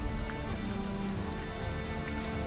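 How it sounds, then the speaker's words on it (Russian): Steady rain patters across surfaces in the Assassin's Creed Valhalla game world, an even, soft wash of drops with no talking over it. "здесь у нас дождь плачет"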